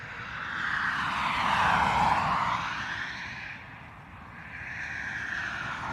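An inbound airliner from London Heathrow at Dublin Airport passes at a distance, its engine hiss swelling, fading, then rising again in soft, faint waves.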